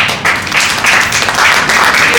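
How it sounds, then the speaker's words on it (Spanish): Short burst of audience applause at a church gathering, a steady wash of many hands clapping at even loudness throughout. "denle un aplauso a Cristo"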